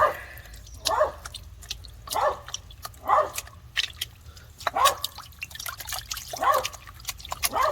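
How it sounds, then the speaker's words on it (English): A dog barks repeatedly in evenly spaced bursts, somewhat distant, over a quiet outdoor background beside a stream. "Hear my dog barking."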